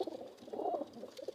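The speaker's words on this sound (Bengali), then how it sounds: "এই যে গোল্লা কবুতরটা" A golla pigeon gives a short, soft coo, a few faint murmuring pulses close by against a quiet background.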